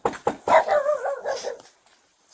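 A dog barks beside a house, a quick series of sharp, loud barks and yelps in the first second and a half, then a brief whimper before it falls quiet.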